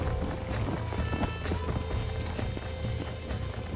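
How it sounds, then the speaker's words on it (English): Horse hooves gallop in a steady clip-clop rhythm in Red Dead Redemption on PC, loud and continuous over game music and ambience, with no talking. "Vou tentar domar outro cavalo."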